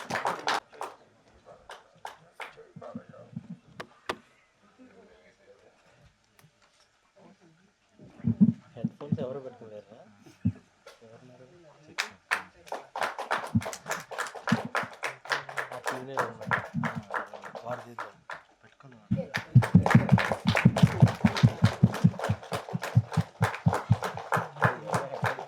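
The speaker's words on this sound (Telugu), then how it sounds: "గట్టిగా చెప్పట్లు ఒకసారి" A crowd at a film trailer launch event breaks into dense, loud applause after stretches of amplified talk from the stage. The clapping swells in the second half, mixed with voices and cheering.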